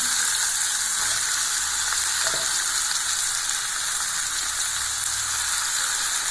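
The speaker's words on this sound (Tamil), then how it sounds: "நல்லா வெங்காயம் தக்காளி எல்லாம் நல்லா வதங்கணுங்க. இப்போ நம்ம தக்காளி போட்டுடலாம்." Onions and tomatoes frying in oil for chicken curry, with a loud, steady sizzle holding evenly throughout and a faint clink of utensils near the middle.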